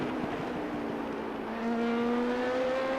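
A Dallara P217 race car engine at Spa in the iRacing video game drones steadily, its pitch climbing gradually in a smooth, sustained rev as it accelerates through second gear.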